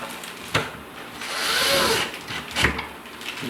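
Screws are snugged down by a power driver during a kitchen cabinet installation. The short, close whirring bursts come with a couple of sharp clicks and taps.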